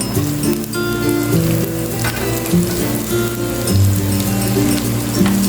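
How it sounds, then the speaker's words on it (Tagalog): Garlic and onion sauté in a hot pan for ginisang monggo with squash, giving a steady, close sizzle that holds evenly throughout with no talking. "Igisa na natin ang ating onion kasamang ating garlic."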